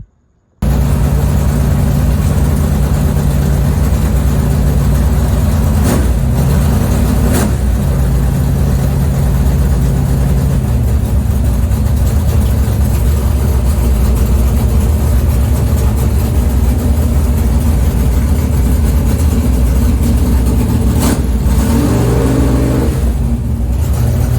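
A race car engine fitted with a new FuelTech system and collector extensions fires up and settles into a loud, rumbling idle, with a couple of short throttle blips along the way.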